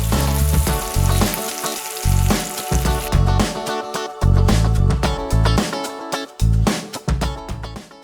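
Salmon frying in a pan over a medium flame, a steady broadband sizzle running through the whole stretch beneath loud, rhythmic background music.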